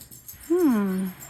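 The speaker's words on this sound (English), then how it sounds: "There are going to be barks any minute." A dog lets out a single drawn-out bark that slides downward in pitch, close by and fairly loud, with quiet room sound before and after.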